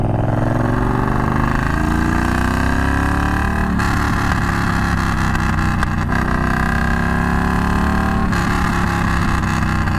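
Triumph Bonneville Bobber motorcycle engine running loud and close for the whole stretch, a steady throbbing rumble with rising revs and two sharp gear-change breaks partway through.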